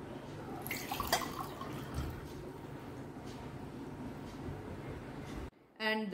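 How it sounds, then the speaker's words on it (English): Cold water poured into a glass for a kitchen density experiment: a steady, close liquid rush that runs for about five seconds and then cuts off abruptly, followed by a brief quieter sound. "The first step is to fill up one glass with cold water."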